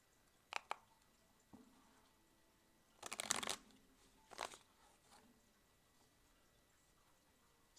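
Tarot cards being shuffled in a quiet room: a few sharp flicks and riffles, then two longer riffling bursts, with near-silence between them.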